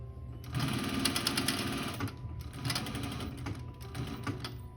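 Sewing machine top stitching a blanket coat at three quarters of an inch, running in fast mechanical bursts with a brief stop near the middle before resuming.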